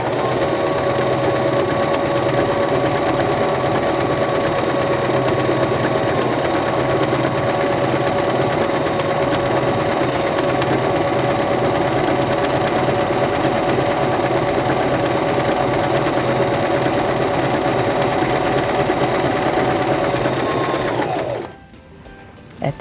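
Singer Start 1304 sewing machine stitching fabric, a steady loud whirring hum with rapid needle clatter running continuously for about twenty seconds, then stopping abruptly.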